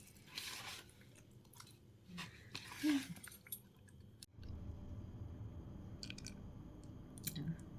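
Bael fruit pulp squished and mashed by hand in cold water for sherbet, soft wet squelches and crunchy squeezes coming in uneven bursts, close and fairly quiet, with a steadier low murmur in the second half.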